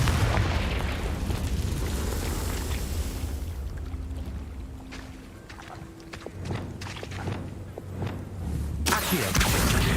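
Booming spell blasts from the Hogwarts Legacy video game on PC, with loud rumbling bursts and a bright crack near the end over a constant dense game soundscape.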